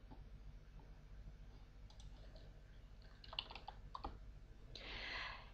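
Typing on a computer keyboard in a quiet room, with sparse, faint individual key clicks scattered across the stretch and a slightly heavier keystroke or two near the end, with no voices.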